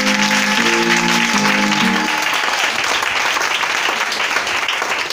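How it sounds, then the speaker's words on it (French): A church congregation at a French-language morning worship service bursts into loud, sustained applause and acclamation, with a few sustained musical tones sounding briefly at the start before the clapping fills the room. "C'est la personne typique de Jésus-Christ de Nazareth que je veux encore que tu acclames puissamment ce matin."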